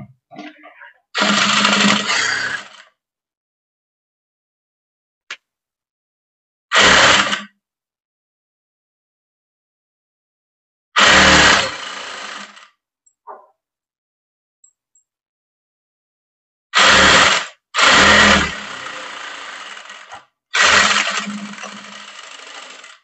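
Sewing machine stitching the lining of a blouse, running in several separate loud bursts of a few seconds each with short pauses between, close up.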